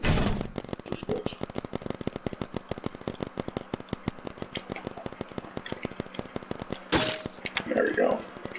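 Rapid paintball gun fire in the BIG Paintball video game, a long fast stream of sharp close clicks and pops, followed by a louder impact and a brief voice near the end.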